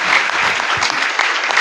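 A church congregation bursts into loud, dense applause during a seasonal greeting at a service, many hands clapping steadily and close for the whole moment.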